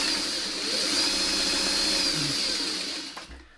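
A sewing machine runs in one continuous whirring burst as it stitches quilt pieces together, steady and close for about three seconds before slowing to a stop.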